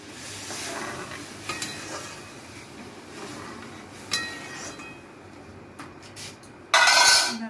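Masoor lentils go into fried onion in a pan and get stirred, with scraping and clinking of a utensil over a soft sizzle and a louder burst of noise near the end.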